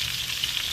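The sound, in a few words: steak sizzling with melting butter over flame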